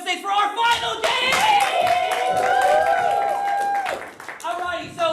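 An audience at a comedy show claps steadily for several seconds, a dense round of applause under a voice talking over it.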